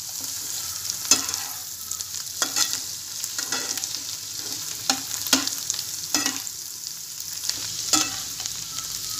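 Boiled spinach stir-fried with egg for palak egg bhurji in a pan, a steady sizzle punctuated by regular scraping strokes of the spatula about once a second, close and alone.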